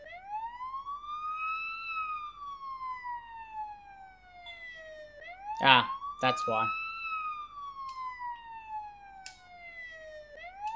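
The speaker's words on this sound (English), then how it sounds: "that siren's annoying." A police siren in the video game Police Simulator wails, rising and falling in slow, sweeping cycles, clear and prominent, while a voice briefly speaks over it midway.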